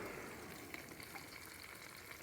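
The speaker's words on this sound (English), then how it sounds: "Get a sizzle? That's just grease coming out of the chicken." Chicken wings, about three and a half pounds, sizzle and crackle steadily in an air fryer as grease renders out, a soft continuous frying hiss with faint pops and no talking.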